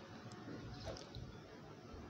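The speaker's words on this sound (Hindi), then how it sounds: "अच्छे से भुनाई करने के बाद हम इसके अंदर 1 गिलास पानी ऐड करेंगे।" A glass of water splashes and gurgles into sizzling beef liver masala in a pan at close range, a steady liquid rush mixed with hissing over roughly two seconds.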